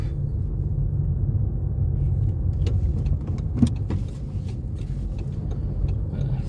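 A car rolls slowly through a parking lot in Poland to park beside a Tesla, its low engine and road rumble steady and close, with a few light clicks and knocks.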